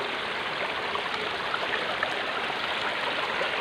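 A clear natural stream flows steadily nearby, a continuous rushing and gurgling of water with small splashes and no voices over it.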